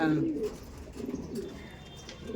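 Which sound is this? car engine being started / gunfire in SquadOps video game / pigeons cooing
pigeons cooing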